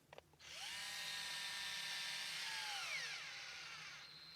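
A cheap battery-powered electric caulk gun straining near the end of its tube, its motor whining steadily and loudly, then dropping in pitch as it bogs down and grinds toward a halt.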